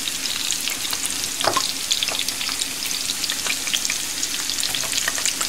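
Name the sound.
chopped onions frying in oil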